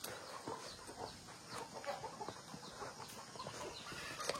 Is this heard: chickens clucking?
yes